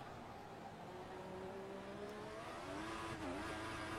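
A car engine pulls in second gear through a hairpin corner, a steady droning hum whose pitch bends down and back up near the end, heard from inside the car with no talking.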